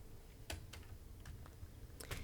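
Keys tapping on a computer keyboard at a meeting, a few scattered clicks close by over a low room hum with no talking.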